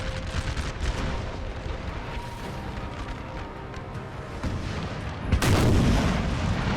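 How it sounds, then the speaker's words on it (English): Napoleonic 12-pounder and 6-pounder artillery in the game Napoleon Total War fires on a French position, scattered booms over a continuous battlefield rumble, with a heavier blast near the end. "we've got some 12-pounders here and some 6-pounders. Firing on the French position"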